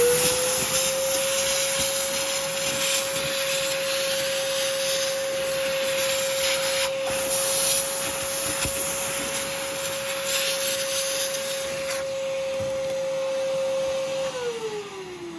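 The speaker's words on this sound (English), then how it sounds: "Now I'm going to vacuum it out." A vacuum cleaner sucks debris out of a crack in concrete, running steadily with a constant motor whine, its suction rasping and rubbing against the surface nearby, loud and continuous until it winds down.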